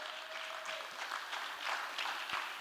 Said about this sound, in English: Let's give them a round of applause for making this all work tonight